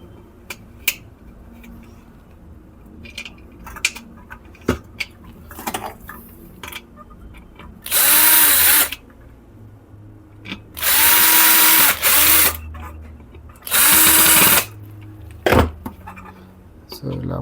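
Power drill driving long screws into a rice cooker body during a repair, with several loud whirring bursts of a few seconds each, separated by quieter clicks, handling noises and talk.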